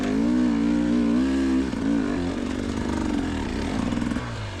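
A dirt bike engine revs hard while climbing a steep hill, loud and close, its pitch wavering and surging with throttle changes before easing into a steady, rougher drone.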